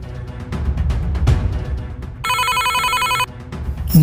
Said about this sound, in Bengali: হঠাৎ ফোনের শব্দে